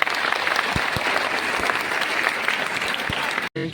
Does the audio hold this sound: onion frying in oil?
no